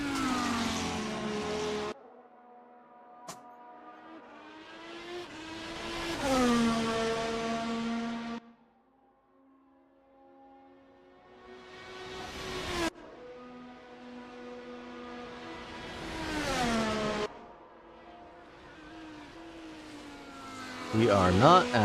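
A race car in a racing video game runs a flying lap at the Piranema track, its engine note climbing and dropping through repeated gear changes, then fading and returning as it passes, heard over a quieter background.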